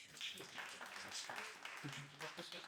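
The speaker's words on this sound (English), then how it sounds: "you can give them a round of applause" An audience applauds panelists at an environmental film festival panel discussion, a steady spread of clapping heard faint and distant over about three seconds, with voices talking over it.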